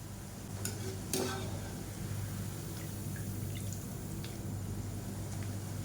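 Pepper karasev frying in hot oil while a ladle breaks up the strands, giving a steady close sizzle with occasional scraping taps and crackles, no voices.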